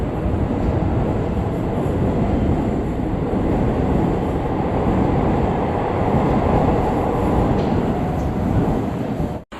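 A Seoul Line 4 subway train, trainset 34160, runs toward Seoul Station with a loud, steady broadband rumble of wheels and motors that holds for nearly ten seconds, then cuts off abruptly.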